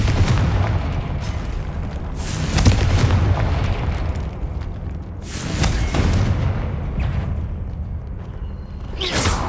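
Fire-spell explosions in the Hogwarts Legacy video game: several heavy, booming blasts land every couple of seconds over a dense, rumbling game background, loud and close.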